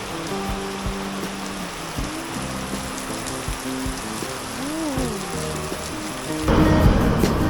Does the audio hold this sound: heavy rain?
yes